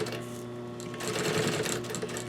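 A domestic home sewing machine stitches through a bulky chair slipcover edge, with a steady close mechanical hum and rapid needle chatter that grows busier midway.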